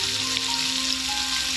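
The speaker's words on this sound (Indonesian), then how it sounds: "Margarin ini akan kita pakai untuk menumis ayamnya." Chicken pieces sauté in melted margarine in a pan, giving a steady, close, loud hiss and crackle of sizzling fat with no pause and no voices.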